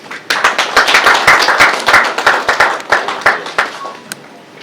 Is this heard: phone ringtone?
no